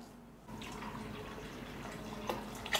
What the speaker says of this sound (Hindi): ये अब हम पानी डाल रहे हैं